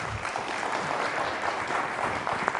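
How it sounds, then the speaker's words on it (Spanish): A studio audience on a Spanish-language family talk show applauds a dance teacher, dense steady clapping at moderate level throughout. "Recibámosle con un aplauso,"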